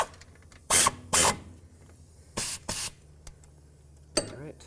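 A ratchet with a 13mm socket snugging wheel hub bolts on a 2005-2009 Chevy Equinox: short, close bursts of rapid clicking in pairs, separated by quiet pauses.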